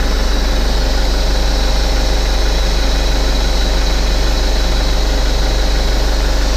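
A 2006 Hyundai Tucson with 45,000 km idles during an engine oil flush, a loud, steady low droning hum with constant vibration, running continuously and alone with no talk.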